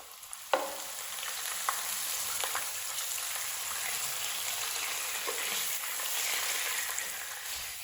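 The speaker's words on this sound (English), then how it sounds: "Going to place our sardine strips into some hot oil." Sardine strips drop into hot vegetable oil with a sharp crackle, then fry in a loud, continuous sizzle with occasional spits and pops.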